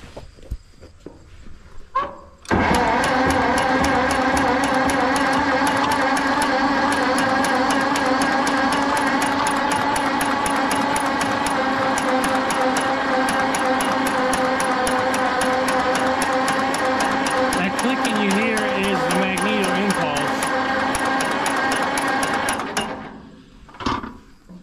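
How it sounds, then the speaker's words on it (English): A starter motor cranks a seized engine bought at auction, turning it over with a fast, steady, rhythmic chugging whir. The cranking runs loud and unbroken for about twenty seconds, then stops. "see if we can wing it over with the starter a few times, see if it'll build oil pressure."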